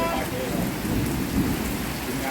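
Heavy summer-storm rain pours down in a dense, steady roar, with low thunder rumbling through it, heard from indoors while sheltering.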